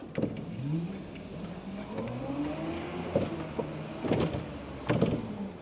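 Koenigsegg Jesko toy car running in fast mode, a close, whining electric motor with rising and falling pitch sweeps as it speeds up and slows, punctuated by sharp clicks and knocks.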